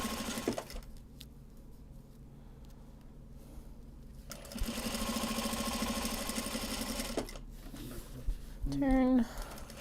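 A sewing machine stitches a card holder from Japanese fabric in two short runs of close mechanical whirring. A person speaks briefly between the runs.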